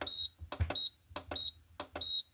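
A Xiaomi Ocooker rice cooker gives four short, high electronic beeps as its timer button is pressed, each paired with a faint click, quiet and close in a still room.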